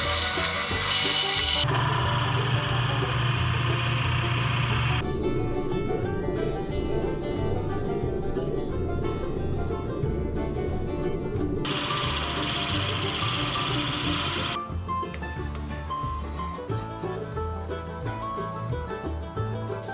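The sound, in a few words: drilling out housing in wooden hand plane bed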